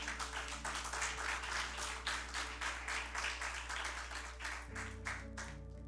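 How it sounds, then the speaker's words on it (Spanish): A church congregation applauds, rapid overlapping handclaps over a steady low hum, fairly loud and continuous. "Aplaude a Cristo."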